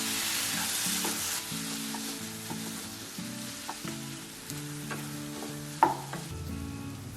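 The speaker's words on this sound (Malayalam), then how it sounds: "ഇനി തുറന്നു വെച്ച് വെള്ളമൊക്കെ ഉണ്ടെങ്കിൽ അതൊന്ന് വറ്റുന്നതിനായി ഇടയ്ക്കിടയ്ക്ക് ഇളക്കി വേവിക്കുക" Prawns and shallots roast in a pan for a Kerala-style prawn roast, a soft steady sizzle broken by intermittent scraping and clinking as the mixture is stirred, with no talking.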